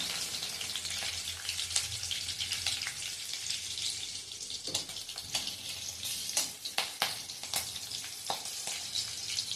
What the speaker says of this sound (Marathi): ह्या मिरच्या थोड्याशा अशा छान परतून घ्यायच्या आहेत